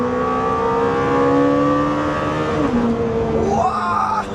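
A Lamborghini Temerario engine in sport mode revs steadily upward toward about 9000 rpm, a loud, rising high-pitched howl that climbs continuously before easing off into a quick shift blip near the end.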